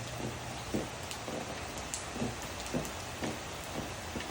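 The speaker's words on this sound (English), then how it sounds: "You can see it's not a hard rain, just a consistent light rain." Consistent light rain from a Hurricane Idalia band patters steadily, a soft even hiss with faint scattered drip taps, fairly quiet and with no voices.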